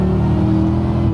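A V8 engine in an Aston Martin Vantage V600 Le Mans, pulled past 3,000 RPM, gives a loud, deep, steady growl with a strong rumbling tone throughout the short burst.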